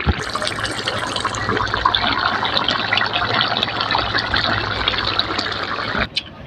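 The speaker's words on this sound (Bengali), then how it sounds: "এবার আমি তরকারিটা ঢেলে নেব।" Cooked vegetarian mixed vegetable curry is poured out of a pan, making a steady, close, wet pouring and sloshing sound that runs for about six seconds and then stops abruptly.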